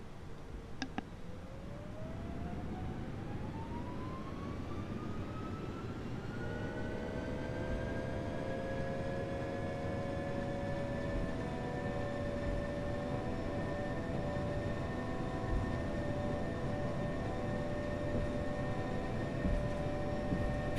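A United Airbus A319 spools its engines up to full takeoff power departing Washington Dulles for Chicago; a loud, steady cabin roar carries rising whine tones that climb and then level off into sustained droning harmonics.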